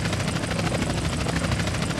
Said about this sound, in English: We got a chopper on our tail.